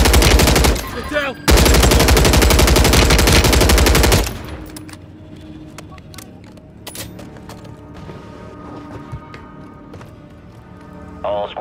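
Automatic weapons in a battle royale match rattle out in loud, rapid bursts for a few seconds and then cut off, leaving quieter scattered shots, movement sounds and game voice callouts.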